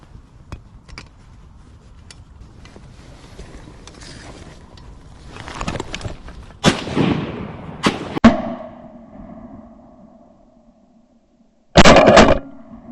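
Sharp shotgun blasts ring out during a veterans' duck hunt, a couple of loud cracks close together followed by another burst later, set against quiet outdoor background and rustling.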